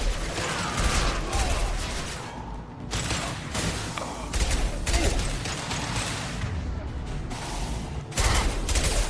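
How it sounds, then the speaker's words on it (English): Concussive shot abilities fired during combat in Mass Effect 2, with a loud, dense run of thumping blasts and gunfire-like bursts, briefly broken by short pauses, and faint voices mixed in. "Firing concussive shot."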